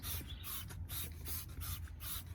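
Several short bursts of wheel cleaner spray hiss in quick rhythm onto an Audi S1's wheels, close and fairly quiet.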